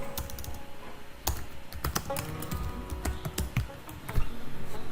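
Fast typing on a computer keyboard while entering text in a Figma design tutorial, close irregular clicks and clacks with a louder burst near the end.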